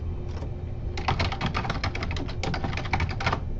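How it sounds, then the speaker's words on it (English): Rapid, close keystrokes on a computer keyboard as a teacher enters a lesson agenda into an online planner, a steady patter of clicks with short gaps and no talk. "then just type in my agenda"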